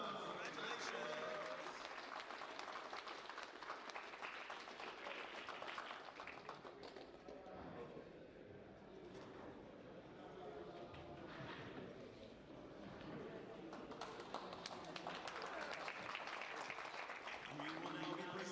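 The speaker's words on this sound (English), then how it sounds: "Please give a final round of applause to our mixed doubles podium." Applause from an audience honoring the mixed doubles podium at the Tornado World Series Gold Final, a steady wash of clapping that runs throughout, swelling at the start and end with a slight dip in the middle, with some voices mixed in.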